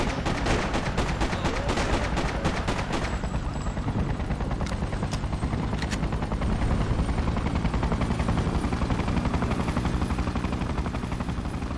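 Gunfire rings out during a Manhattan street battle with soldiers in the video game Freedom Fighters, a rapid burst of shots at first, then a dense, loud rumbling battle din with a few isolated cracks.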